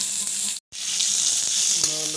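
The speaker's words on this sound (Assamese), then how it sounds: "পিঁয়াজটো অলপ ভাজি লওঁ" Chopped onions fry in a pan, giving a steady close sizzle broken by a brief silence, with faint clinks of stirring near the end.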